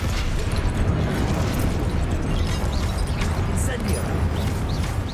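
A Confringo fire-spell blast in the Hogwarts Legacy video game, a dense, continuous roar of explosive rumble and crackle that stays loud throughout, with a voice speaking over it.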